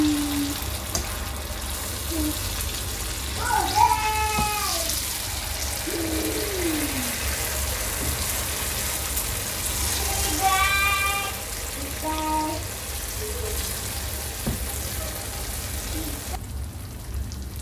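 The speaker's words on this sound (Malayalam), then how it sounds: "ഇതിലേക്ക് നമുക്ക് മാവ് ഒഴിച്ചു കൊടുക്കാം." Unniyappam batter goes into hot oil in an appam pan, giving a continuous close sizzle and crackle of frying that runs throughout under a few faint voice-like sounds.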